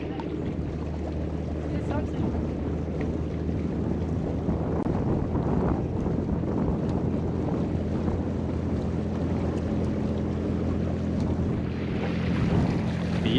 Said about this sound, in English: Now we're sailing home.